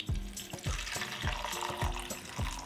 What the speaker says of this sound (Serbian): Nalit ću vodu u šerpu,